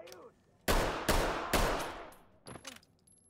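Three sharp, loud pistol shots in quick succession in the tactical police shooter Ready or Not, each with a short echoing tail, followed by fainter clatter and a shouted voice.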